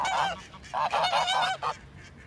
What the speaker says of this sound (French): à droite c'est un jar de l'année dernière que j'ai eu dans mes jeunes